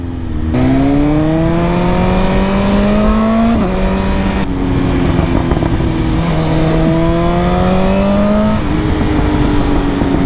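A 2022 BMW S1000R M Package motorcycle fitted with Arrow headers and an Akrapovic exhaust, heard while riding: a loud, steady engine drone with rising and falling pitch through the gears, close and continuous with no talking.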